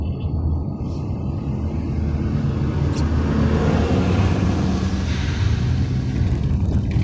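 A trash truck rolls by at the entrance to a waste incinerator, producing a steady, loud low engine rumble with road noise that holds throughout, and no talk.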